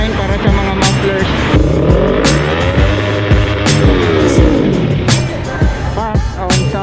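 Motorcycles with modified mufflers rev at an exhaust sound level inspection line for a modification permit, loud throaty engine revs rising and falling repeatedly, with crowd chatter and other bikes in the background.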